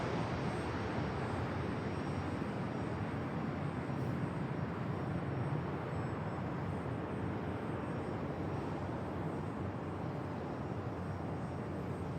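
Aircraft at San Diego Airport producing a steady, even jet roar at a distance, faint and unbroken for the whole stretch with no voices.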